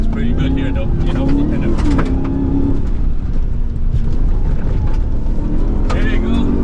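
A 2027 Ram 1500 TRX SRT pickup driving hard off-road in Baja, its loud engine roaring and droning steadily with wind and rumble from the terrain, while someone talks over it.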